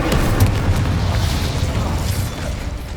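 The Incendio fire spell in Hogwarts Legacy gives a dense, rumbling, booming blast that fills the moment with a roaring whoosh and crackling bursts.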